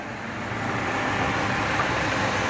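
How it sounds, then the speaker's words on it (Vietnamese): The engine of a used 2002 Daewoo Nubira idles close by, giving a continuous, even hum with no change in pitch or rhythm and no other sounds. "hiện tại thì máy đang nổ anh chị ạ."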